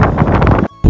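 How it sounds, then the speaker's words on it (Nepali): Strong cold wind at Cape Sagres on Portugal's southern coast buffets the microphone in a loud, rough roar that drops out briefly near the end, then surges back. "एकदम यो चिसो यति हावा चलिरहेको छ"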